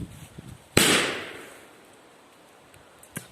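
A Piromax Nitrox PXP208 firecracker set off under a small pot explodes in one sharp, loud bang with a ringing tail that fades over about a second, followed later by a faint click outdoors.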